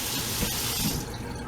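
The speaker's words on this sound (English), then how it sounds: "Kind of rinsed them off in case there's anything on them." Dry kidney beans rinsed under a running kitchen tap, a steady close hiss of water splashing into the sink for the whole stretch, with no talking.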